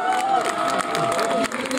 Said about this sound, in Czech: Prosím, potlesk.